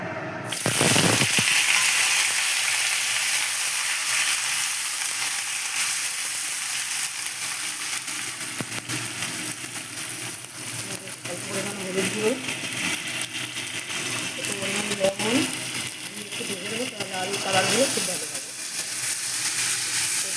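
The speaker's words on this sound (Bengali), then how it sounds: "এখানে আমি এখন এই আলুগুলো একটু ভেজে নেবো" Potatoes fry in a pan with a loud, continuous sizzle that sets in sharply and holds steady, with a voice speaking over it in the later part.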